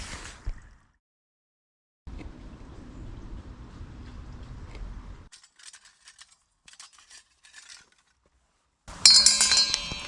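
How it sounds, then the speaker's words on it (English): Small camping stove parts knocked and fitted together outdoors, with faint metallic clinks and light taps in short irregular clusters between quiet gaps, then a brighter sharper metal clink close by at the end. "I'm putting together my small stove here."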